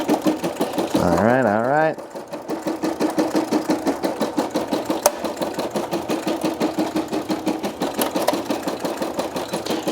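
A Brother SE 625 embroidery machine stitches a patch with thread from a cone, giving a steady fast rhythmic whir close up, after a short rising motor whine at the start; a voice speaks briefly.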